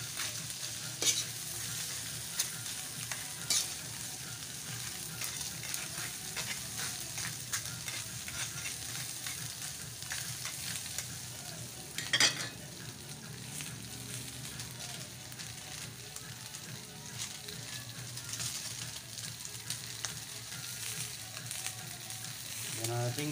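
Crab is sautéed in a pan, a steady faint sizzle with intermittent scraping and clinks of stirring throughout, one sharper knock midway.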